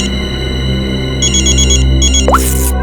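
A repeating electronic phone ring chirps in short bursts over a steady low hum, followed by a brief rising whoosh.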